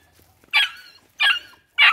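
Dogs fighting let out three sharp, close yelping barks at regular intervals, with near silence between them.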